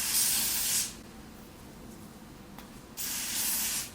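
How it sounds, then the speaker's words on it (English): Two bursts of aerosol lace spray hiss close by onto a wig's lace frontal, one at the start and another near the end, with a quiet pause between them. "go ahead and work in 3 layers with lace spray"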